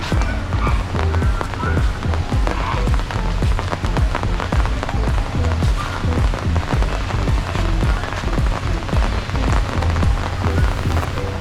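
Rain pours onto an umbrella shelter at a bird park in Kuala Lumpur, a loud, dense, continuous patter of drops drumming close overhead.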